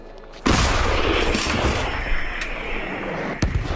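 An artillery gun fires a single shell in wartime combat: one sudden, loud blast rolls into a long, rumbling roar that slowly fades, and a second sharp crack cuts in near the end.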